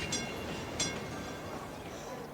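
A blue line train in Cities: Skylines runs with a steady low rumble and a faint rhythmic clatter, with a few short bright clicks, and speech sits over it.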